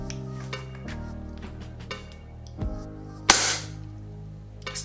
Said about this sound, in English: I want you to see how far the slide travels back and whether it locks back once the last round has been spent.